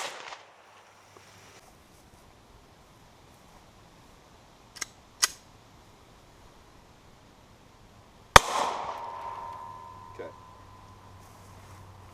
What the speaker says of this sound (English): we're going to start out with the Glock 17 in 9mm frontal shot